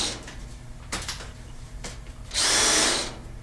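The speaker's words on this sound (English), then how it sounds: "Just drill a hole from the corners." A power drill whines briefly through sheet metal near the end, after a few faint clicks and knocks, with no voices.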